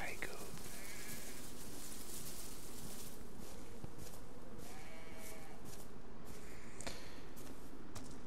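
A goat in the video game DayZ bleating in a few short cries heard faintly over constant noisy background hiss, with soft murmured talk in the mix.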